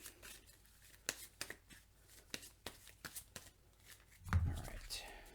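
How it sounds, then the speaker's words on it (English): Playing cards being shuffled during a Marvel Legendary deck-building game, a run of quick crisp riffles and taps close by, ending in a heavier thump as the deck is squared. "I got to shuffle because I lost my 1 card there."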